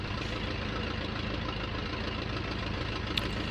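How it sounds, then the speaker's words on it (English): A Mercedes-Benz six-cylinder inline engine in an Albatros D.III biplane idles in a flight simulator, a steady low droning rumble with fine rapid valve ticking, constant and close throughout. "Right, we have our Mercedes-Benz engine ticking over."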